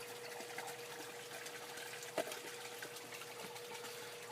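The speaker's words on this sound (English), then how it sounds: "Pump's going to pump the water down through here" A pump in a 960-gallon growout pond, fed through a cheap pool skimmer with a leaf basket, pushes water in a steady, dense rushing wash with a faint hum, continuous and moderately loud, with no voices.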